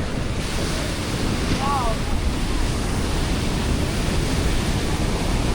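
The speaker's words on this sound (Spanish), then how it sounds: "La gente escapa a las olas." Ocean surf breaking on Ipanema beach in Rio de Janeiro, a steady broadband wash of waves with wind buffeting the microphone, continuous and fairly loud throughout with a faint high whistle-like sound midway.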